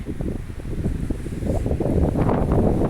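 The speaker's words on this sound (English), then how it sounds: "Today it is very, very windy." Gusty wind in woods buffets the microphone with low rumbling bursts, growing stronger toward the end, with a faint rustle behind it.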